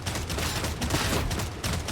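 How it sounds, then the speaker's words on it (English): Dense, continuous gunfire rattles through a Warhammer 40K Darktide video game battle, loud and sustained with overlapping shots across the whole stretch. "Hey, stop shooting me in the back."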